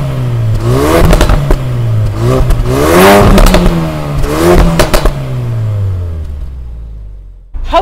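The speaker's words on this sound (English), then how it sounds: "Just open the valve and let it roar." 2017 Ford Focus RS with its exhaust valve open roaring loudly and close, rising and falling through several hard revs with crackles, then cutting off abruptly.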